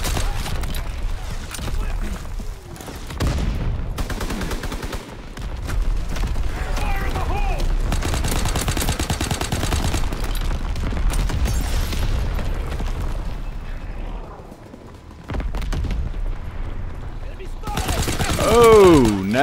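Incoming enemy artillery and gunfire rumble through a Call of Duty: WWII match, with sustained booms, rattling bursts and explosions, loud and layered for most of the stretch, briefly easing before swelling again, with voices talking over it.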